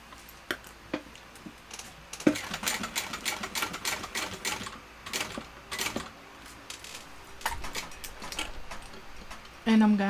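A sewing machine stitches across a recessed zipper panel on a shoulder bag, running in steady bursts of rapid needle ticking with short pauses between runs, fairly close and moderately loud.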